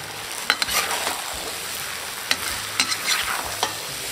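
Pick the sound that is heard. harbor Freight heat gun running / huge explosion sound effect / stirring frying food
stirring frying food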